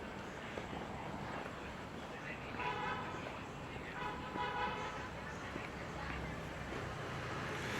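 Scattered car horns toot on a busy city street at night along a river, a couple of short honks rising over a steady wash of traffic noise.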